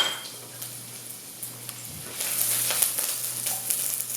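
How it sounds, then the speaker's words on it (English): Red onion sizzles softly in sesame seed oil, a faint, thin frying hiss that swells slightly louder partway through, with a low steady hum beneath. "to that sesame seed oil, I'm going to add very little red onion"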